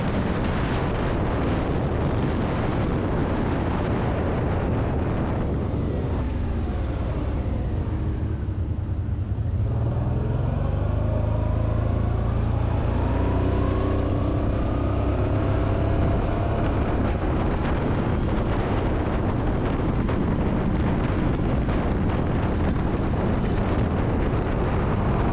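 Honda DN-01 motorcycle of about 45 horsepower accelerating up to interstate speed, engine pitch climbing through rising tones under steady loud wind buffeting on the microphone.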